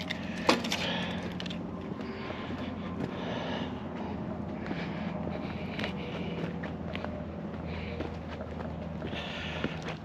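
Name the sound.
keys jangling while being sorted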